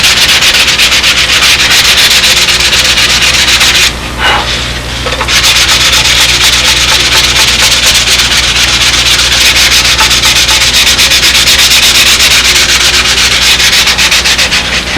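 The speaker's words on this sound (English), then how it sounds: "The trick is keep the sandpaper on the dowel constantly turned" Sandpaper wrapped around a wooden dowel rubs back and forth to shape a radius in wood, a loud continuous abrasive scrubbing that runs close up nearly throughout with one short pause.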